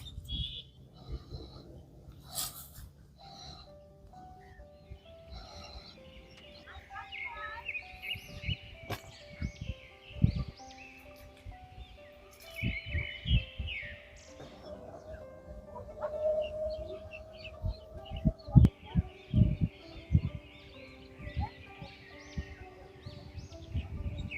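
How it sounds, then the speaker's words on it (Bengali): Assorted calls and chirps of migratory birds at a wetland lake, Bortir Bil, some near and some farther off, scattered over low rumbling and occasional thumps. "এখন আমি কিছুক্ষণ চুপ থেকে তোমাদেরকে পাখিদের কণ্ঠস্বর শোনাবো"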